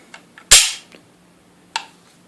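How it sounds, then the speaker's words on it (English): A firearm's hammer strikes the rear of the bolt with one sharp, loud metallic snap, preceded by faint clicks and followed by a second, softer click a moment later. "you can actually see the hammer hit the rear end of the bolt"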